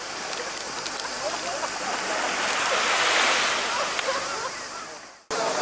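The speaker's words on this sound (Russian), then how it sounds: "Еще один катер" Tourist motorboat passing near a Montenegro beach, a steady broad rush of engine and churning water swelling slightly then cutting off abruptly near the end, with no voices.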